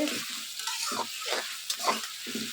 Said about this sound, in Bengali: পেঁয়াজটা বেজে নেই